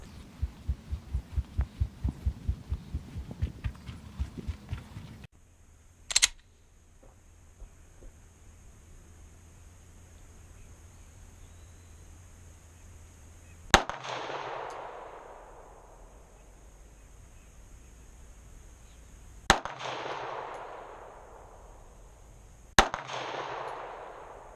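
Sharp, loud gunshots from target shooting ring out one at a time, four cracks spaced several seconds apart, each trailing a brief echo, after a low rhythmic rumble and otherwise quiet pauses.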